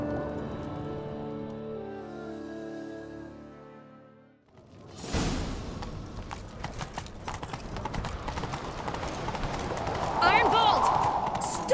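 Horse hooves galloping in The Witcher 3 game, a loud, fast, steady clip-clop that kicks in about halfway after a musical stretch, continuing under rushing movement and a voice calling out.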